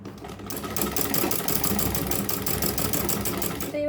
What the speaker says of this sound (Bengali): আমি একটা সেলাই দিয়ে নিব দুই পাশে